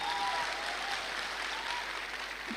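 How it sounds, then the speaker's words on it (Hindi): Audience applause fills a hall at a celebration event, a continuous wash of many hands clapping that holds steady throughout. "उनका सबसे बड़ा जोरदार तालियों के साथ स्वागत कर।"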